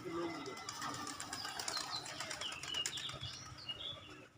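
Pigeons at a pigeon farm flap their wings in bursts, with some soft bird calls nearby and people talking over them.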